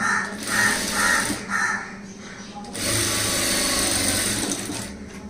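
A sewing machine stitches a front gap blouse in long, large stitches, whirring steadily near at hand in short bursts, then a longer continuous run, alone without talk.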